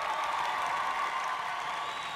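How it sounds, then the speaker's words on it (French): Steady applause and cheering from a live concert crowd for a band, dense and continuous throughout with no clear individual claps. "s'il vous plaît, applaudissements pour eux."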